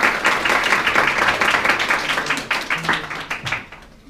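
Audience applause at an indoor weather-talk event, dense steady clapping from a crowd that carries on evenly before thinning and fading near the end.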